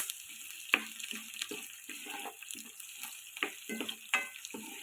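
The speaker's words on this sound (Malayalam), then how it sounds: "ഒരു സവാള ഇട്ടിട്ട് ഞാൻ എടുത്തേക്കുന്നത് അത് കൊത്തി വന്നിട്ടുണ്ട് കേട്ടോ നന്നായിട്ടൊന്ന് വഴറ്റിയെടുക്കാം" Chopped onions sizzle and hiss in a pan as they are sautéed for a Kerala-style potato roast, with intermittent stirring scrapes and clinks over a steady frying crackle, close by and fairly quiet, no voices.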